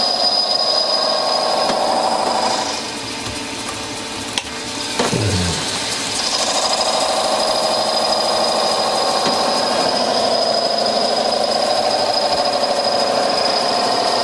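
A mini lathe machining a tailstock part hums steadily at close range, with a continuous whine and a brief dip and scrape partway through before the cutting noise resumes.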